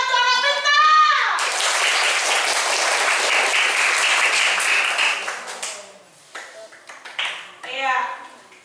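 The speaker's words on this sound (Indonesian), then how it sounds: "Tepuk tangan untuk anak pintar." Children in a fourth-grade physical education class applaud together: a dense burst of clapping that swells loud and holds for several seconds before fading, with a voice speaking before and after it.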